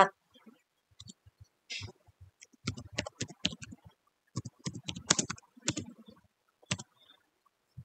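Commands are typed on a computer keyboard while configuring a router, switches and IP phones, giving quiet, close bursts of rapid key clicks separated by short pauses.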